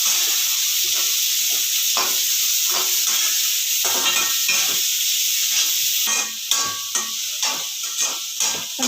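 Onions and garlic sautéing in oil in a pan for kothu chapati, a steady sizzling hiss running throughout with occasional stirring scrapes, no talking.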